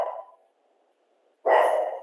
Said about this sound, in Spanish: que el perrito está nervioso otra vez